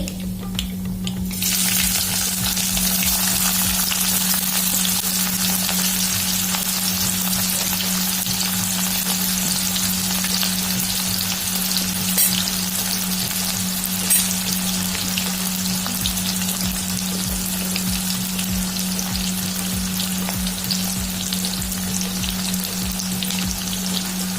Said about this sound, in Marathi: नंतर त्यामध्ये आपण ऍड करूया 2 बारीक चिरलेले कांदे